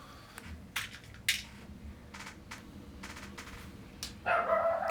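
A dog barks several times in short, separate bursts over steady low background noise, with a louder, sustained noise near the end.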